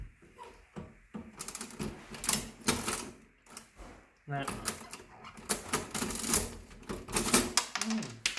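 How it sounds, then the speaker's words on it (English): Keys on a very old-fashioned mechanical cash register clack in rapid, uneven runs of sharp mechanical strikes, up close and loud, with short pauses between runs and people talking in between. "this is like a very old-fashioned cash register type."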